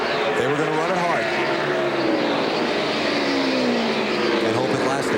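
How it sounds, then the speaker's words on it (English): A NASCAR race car at the 2003 Checker Auto Parts 500 screams on its rev limiter heading into turn 3, a loud sustained engine drone with rising and falling harmonics, mixed with a race broadcast where commentators talk over it. "Rev limiter going into turn 3. Hear the car."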